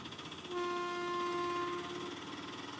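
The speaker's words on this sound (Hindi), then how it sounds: "सामने से तो एक ट्रेन आ रही है" A train engine approaching and sounding a long, loud horn blast over the steady rumble of rail traffic, the horn holding for over a second before fading back into the rolling noise, no voices.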